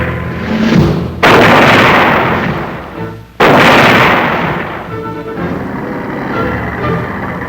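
Tank main guns firing during a crew qualification course with simulated combat situations, two heavy booming blasts a couple of seconds apart, each followed by a long rumbling decay over steady engine noise, loud and close.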